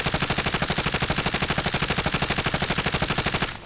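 QBZ-191 rifle in Fallout 4 firing one long burst of automatic fire, rapid evenly spaced loud shots for several seconds before stopping abruptly.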